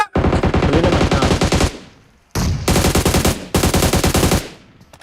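Rapid automatic gunfire in PUBG Mobile, two long loud bursts and a third, each a dense rattling string of shots with short pauses between, close and dominant.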